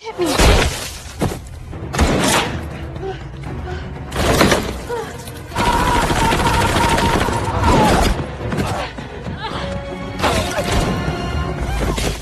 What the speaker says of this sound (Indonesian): tiba-tiba terdengar suara tembakan hingga membuat mereka semua panik berlarian